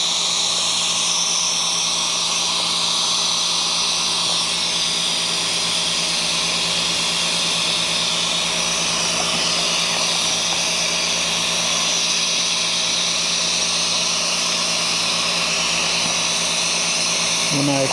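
A seam taping machine sealing a backpack seam gives off a loud, continuous mechanical hiss and whir. It stays steady throughout, with a low motor hum beneath it.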